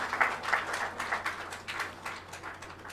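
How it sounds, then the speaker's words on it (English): Applause for Dr. N.P. Gupta after he lights a ceremonial wick at the GIBS 2018 event: a small crowd claps steadily, with uneven hand claps close by, and no voices. "Can we have a big round of applause again for him,"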